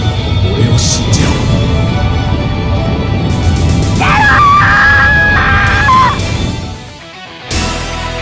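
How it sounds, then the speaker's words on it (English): Scream of agony from a character in the Mega Man Zero video game, a loud, sustained anguished cry that holds steady for several seconds over a dense game soundtrack, breaking into a warbling wail before cutting off. "With CL's screams of agony, Zero's final fight begins."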